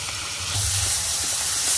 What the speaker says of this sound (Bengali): কাঁকড়াতে লবণ হলুদ মেখে একটু ভেজে নেব।